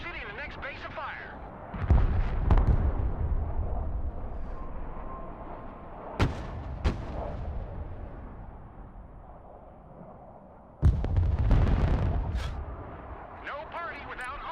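Artillery barrage in the video game Broken Arrow: deep booming cannon blasts with rumbling tails, a couple of sharp reports between them, and a second heavy volley near the end. Radio-style voices talk over parts of the barrage.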